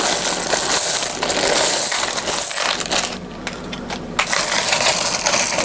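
A tub of mixed world coins is churned and shaken by hand, giving a loud, continuous metallic jangle and clatter close up, with brief dips as the mixing pauses.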